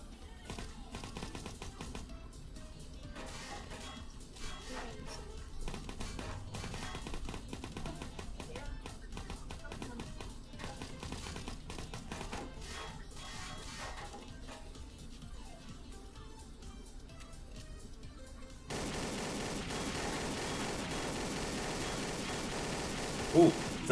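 Video game gunfire rattles almost nonstop in dense automatic bursts over a steady bed of game noise, with the tone shifting to a brighter, flatter wash near the end.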